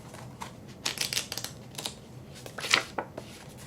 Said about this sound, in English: These are kind of hard to shuffle.